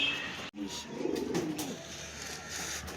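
Madras pigeon cooing at close range, a soft low warbling coo in a quiet indoor setting, with a brief bump of handling noise early on.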